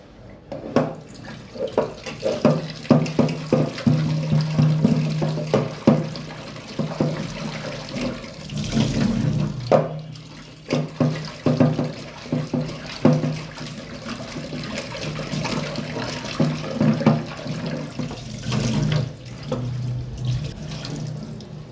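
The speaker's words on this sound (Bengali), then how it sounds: "আমি এখন মাছটি ধুয়ে ফেলবো।" Tap water runs into a sink while poa fish is rinsed under it, a close, loud gushing with splashes and rises in strength as the fish is handled.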